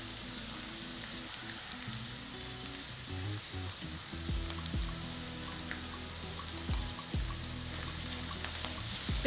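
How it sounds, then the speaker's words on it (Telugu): Onion paste fries in a pan for Telugu-style dondakaya ullikaram, a steady bright sizzle with occasional stirring scrapes and soft low clatters throughout, close and continuous with no talk. "పేస్ట్ కూడా ఫ్రై చేసుకోవాలి."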